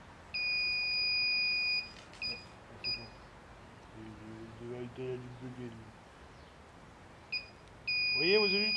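An antenna device emits a high steady electronic beep for over a second, then short bursts, then beeps again later, with a voice talking in between.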